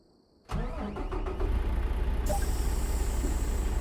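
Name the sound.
truck driving in American Truck Simulator video game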